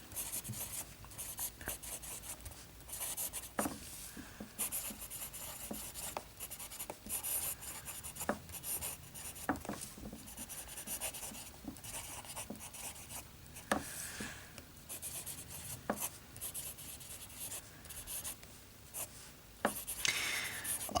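A fountain pen with a broad B nib, inked with Rohrer und Klingner Alt Goldgrün, scratches softly across paper in a steady run of short strokes and taps, quiet and close with no talk.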